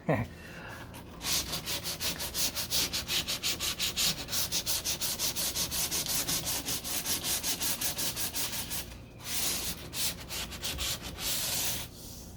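Rhythmic strokes of 220-grit sandpaper rubbing back and forth across a primed deck lid on a 1969 C3 Corvette, steady rasping passes with a brief pause near the nine-second mark, close and alone.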